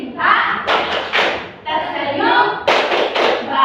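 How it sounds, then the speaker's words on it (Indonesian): A classroom clapping rhythm game, with a group of children clapping hands together in loud, uneven bursts, short pauses between rounds, close and roomy, with voices mixed in. "Tepuk tangan."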